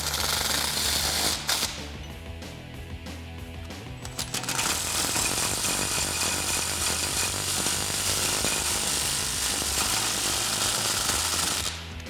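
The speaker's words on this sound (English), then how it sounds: "So for these two bolts on the driver's side, we're going to use a 19mm socket to tighten those up." On a 2014-2018 Silverado 1500 or Sierra being fitted with a Fabtech 3-inch budget lift kit, a power tool on a 19mm socket rattles loudly and continuously as it runs lift kit bolts tight.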